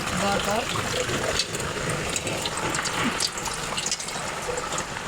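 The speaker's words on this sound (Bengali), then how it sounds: "এই যে দেখুন চালেতে পানিটা পড়তেছে আসমানের পানি" Steady heavy rush of rainwater pouring continuously off a roof in heavy rain, a dense broadband splashing roar throughout, with faint voices mixed underneath.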